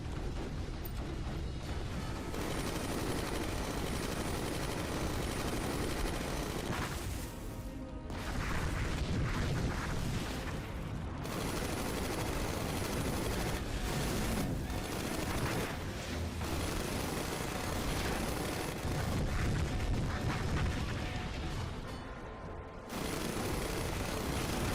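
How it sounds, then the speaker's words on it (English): Missiles and gunfire explode continuously in the Iron Man 2 video game, a dense, loud wall of booms and shots that runs almost without pause and dips only briefly. "And those missiles need to fire quicker."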